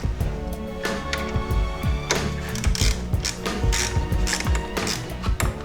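A tool clicks while tightening the brake lever bolt on a Honda Africa Twin motorcycle, producing a string of close, sharp mechanical clicks and taps over a busy background.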